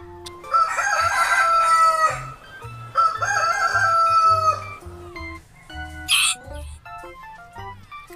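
Two loud rooster crows ring out one after another, with some clucking and low farmyard thumps, then a brief sharp squawk.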